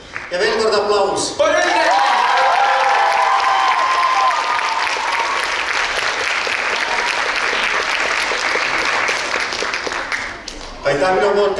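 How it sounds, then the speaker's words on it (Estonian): Loud audience applause with some cheering at an evening awards concert of a school dance festival in Estonia, rising sharply after a moment and holding steady, with tonal voices or music briefly at the start and end. "Ja veel kord aplaus."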